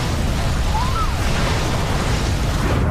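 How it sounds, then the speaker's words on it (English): Gases igniting with explosive force during a fire inside an aircraft cabin make a loud, sustained roaring burst of broadband noise that fills the whole stretch without letup. "The gases ignited with the force of an explosion."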